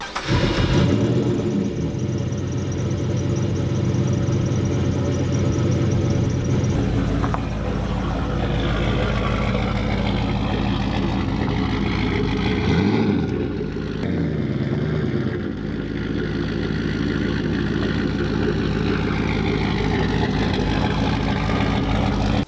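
A ute engine runs steadily and fairly loud throughout in a workshop shed, with a broad low rumble and some shifting tone and clatter partway through, and no talk.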